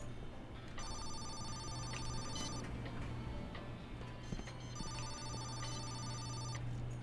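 In Laundry Store Simulator, a telephone rings twice in two trilling electronic bursts separated by a short pause, over faint background hum and light ticking.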